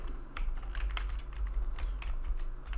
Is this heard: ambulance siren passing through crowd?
no